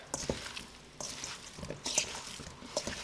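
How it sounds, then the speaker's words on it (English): Meatball mixture for Asian-style lettuce wraps being mixed by hand, with soft wet squelches and squishes in short irregular bursts, close and fairly quiet, with no talking. "using your hands, make sure they're clean. I'm going to go ahead and just mix this all together"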